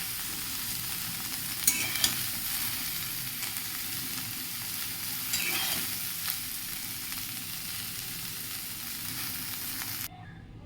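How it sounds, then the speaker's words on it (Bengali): Soybean chunks fry in oil in a wok, giving a steady, close sizzle with faint stirring scrapes and no talk. Near the end the sizzle cuts out abruptly. "এইভাবে আমি একটুখানি সয়াবিনগুলো ভেজে নেব"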